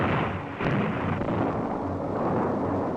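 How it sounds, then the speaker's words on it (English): A dynamite blast in drilled holes on the rock walls of a canyon during dam construction makes a dense, thunderous rumble, with a fresh surge about half a second in that rolls on heavily to the end. "they drilled holes in the rock and loaded them with dynamite"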